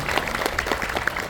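Applause from an audience honouring four students at a Tamil poetry-writing event in Singapore: continuous, moderately loud clapping with many overlapping hand claps, steady and even throughout.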